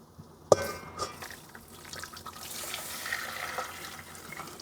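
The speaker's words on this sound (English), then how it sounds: "we're going to pour this water again into our flaxseed" Water poured into a pot of flaxseed, a sharp knock at the start followed by a few seconds of splashing, trickling liquid, close and moderately loud with no talking.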